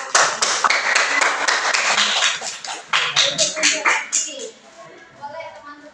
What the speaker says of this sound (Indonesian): Beri tepuk tangan yang berhasil.